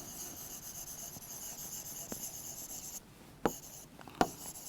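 Pen writing out a chemistry reduction half-reaction, a soft continuous scratch with a few sharper taps near the end, quiet and close over a steady background hum.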